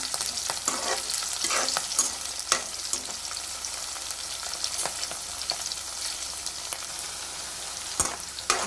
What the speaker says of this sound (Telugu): ఒక 2-3 అయితే పచ్చిమిర్చి వేసుకుందాం. మంచిగా కలుపుకోవాలి.